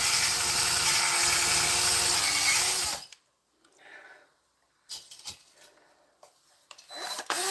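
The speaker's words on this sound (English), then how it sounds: "Again, sanding, steel wool, scouring, good strong scouring pads." Steady abrasive scrubbing of cast iron with steel wool rasps loudly for a few seconds, then stops, followed by faint scattered scrapes and rubbing.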